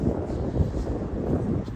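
Strong wind on an exposed trail of the Arizona Trail on the Kaibab Plateau, a loud continuous buffeting rush that hits the microphone with low rumbling gusts and no speech.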